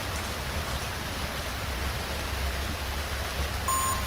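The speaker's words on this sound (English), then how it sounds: "Oh, the rain." Steady, dense rain hisses continuously in the FNAF 2 reboot video game, an even wash of downpour with no pauses and a faint tonal blip near the end.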